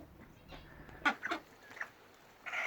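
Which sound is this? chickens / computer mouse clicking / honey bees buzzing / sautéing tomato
chickens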